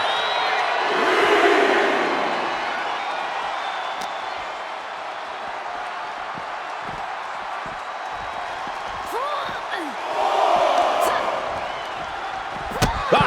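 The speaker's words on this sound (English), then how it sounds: "And now Melee is playing to the crowd." Crowd cheering in the wrestling video game WWE 2K24, arena roars swelling at the start and again near the end, with commentary voices talking over it and scattered impact thuds.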